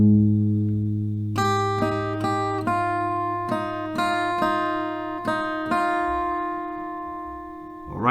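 Acoustic guitar plays a riff at a slow tempo, with distinct plucked notes ringing out one after another in a steady, unhurried rhythm. The guitar is close and clear, with no talking over it.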